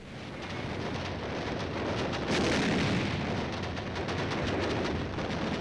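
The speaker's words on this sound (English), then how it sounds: "An artillery duel develops at night." Artillery fire in a night artillery duel on Iwo Jima: a dense, continuous roar of rumbling blasts and crackling bursts, loud and sustained throughout with no clear gaps and no talk.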